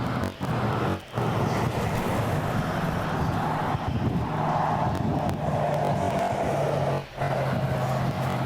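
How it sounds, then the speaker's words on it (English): Cars drive near a lake at the 2020 Bassmaster Classic, making a steady, moderately distant traffic wash with a low hum and a few brief dips. "I hear cars, but I don't hear wind"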